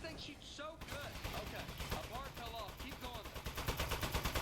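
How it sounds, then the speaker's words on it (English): Rapid automatic gunfire from a Portal 2 sentry turret, reused in the game Aperture Desk Job, rattling in a steady fast burst that runs on through the clip over a dense game sound bed. "That's the turret from Portal 2."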